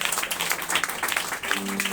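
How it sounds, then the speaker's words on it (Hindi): A church congregation claps together in thanksgiving, a dense, steady patter of many hands filling the space, with a voice briefly sounding near the end. "ताली बजा के प्रभु को धन्यवाद दीजिए।"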